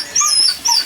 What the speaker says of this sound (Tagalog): medyo mahal itong mga aso natin